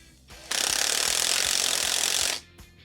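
An FID brushless 18V impact driver turns an air-conditioning tube expander, giving a loud, steady hammering rattle for about two seconds that stops abruptly, with faint mechanical ticking before and after.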